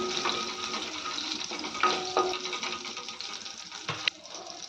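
Mustard seeds and green chillies sauté in a pan for a village-style beans bassaru, giving a steady close sizzle with scattered pops and light stirring scrapes throughout.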